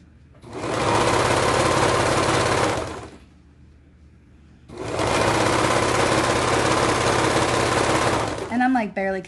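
A serger hems the bottom of bell-bottom trousers in two loud, fast, steady bursts separated by a short pause, with a brief voice just at the end.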